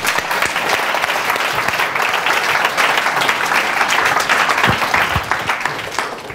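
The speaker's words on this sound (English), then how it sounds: "Your applause." A room full of trainees at an NLP coaching workshop breaks into loud, dense applause that holds steady for several seconds, with a faint murmur of voices underneath.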